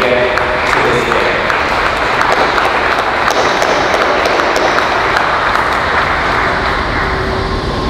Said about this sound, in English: let's give them all a round of applause to thank all of our family and friends who helped you get to this day